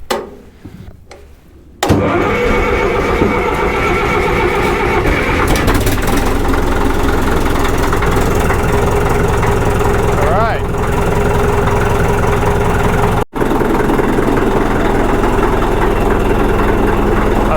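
A Caterpillar D4-7U diesel engine started cold, with no pony motor or ether: a few quiet clunks, then the engine catches and settles into a loud, fast, steady idle rumble.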